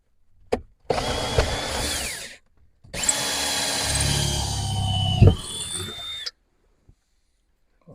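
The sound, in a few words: power drill drilling test hole through bus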